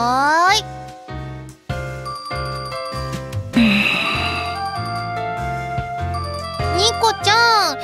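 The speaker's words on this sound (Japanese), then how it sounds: "電話鳴ってるにゃ" A ringtone in a video game story plays a bright, repeating chiming jingle with rising and falling tones, loud and continuous, with a short break and a sweeping swirl of notes partway through.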